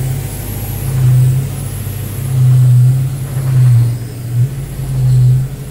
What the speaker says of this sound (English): No, I think it's air compressor